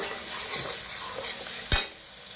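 Onion going into a hot pan where garlic is being roasted for rustic village-style noodles: a soft continuous sizzle and hiss with light stirring, then one sharp clatter of a utensil near the end.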